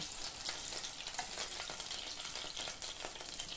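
Soft, steady sizzling of pabda fish frying in mustard oil, a continuous crackle heard quietly and evenly throughout.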